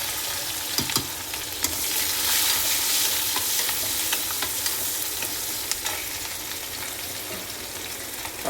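Onions frying in hot oil with fennel seeds and fenugreek in a pan for a cowpea curry, a steady bright sizzle with intermittent scrapes and clinks of stirring, close and alone without talk.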